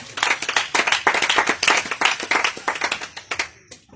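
A church congregation claps steadily and enthusiastically in acclaim of Jesus, a dense run of many hands beating in rough unison that carries on for several seconds before fading at the end.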